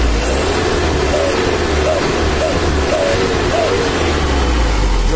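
A vehicle engine runs close by at a rough, heavy idle and is blipped with a series of short, light revs in a steady rhythm.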